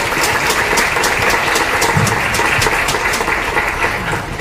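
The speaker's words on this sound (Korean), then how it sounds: "큰 박수 부탁드리겠습니다." Applause from a university student audience closing a public forum, a steady, dense wash of clapping that stays even and loud throughout with no voices over it.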